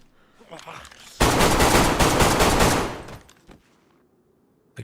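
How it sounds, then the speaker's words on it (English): Gunfire at a zombie in the DayZ video game on Deer Isle: a dense, loud burst of rapid shots lasts about two seconds, followed by quieter scattered sounds. "I'm just gonna have to shoot him."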